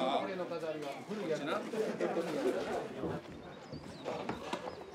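Horses clip-clop at a Shinto festival in Kyoto, where two horses are brought in for a ritual run along a course, with hoof beats heard under talk and crowd chatter.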